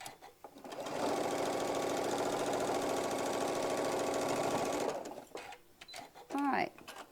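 A sewing machine stitches down a nested quilt seam in one steady run of about four seconds, close and loud, then stops. A voice speaks briefly afterward.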